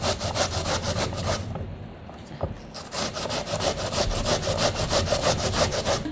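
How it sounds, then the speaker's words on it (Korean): A raw potato rubbed against the corner of a kitchen grater makes steady, rhythmic rasping strokes close up. The scraping pauses briefly, then resumes at an even pace with no talking. "그럼 요 모서리 쪽으로 벌써 그 강판에 가는 소리가 틀려요."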